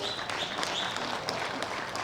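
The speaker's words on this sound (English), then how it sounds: "a big round of applause" Applause from a crowd, a steady wash of clapping hands filling the space for a couple of seconds.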